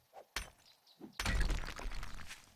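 Stone being mined in the video game 7 Days To Die: a sharp thunk, then a dense crumbling, breaking burst that continues loudly for over a second, with a few faint knocks before it.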